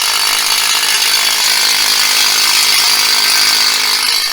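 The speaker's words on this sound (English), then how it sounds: "he's using this giant concrete drill" A giant concrete drill bores into a 4,500 psi concrete foundation slab at a garage build, a loud, continuous, high-pitched grinding whine held steady and close throughout, with no speech.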